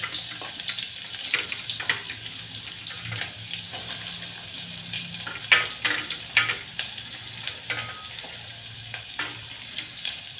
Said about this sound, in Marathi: कांदा छान असा भाजून घेते मस्तपैकी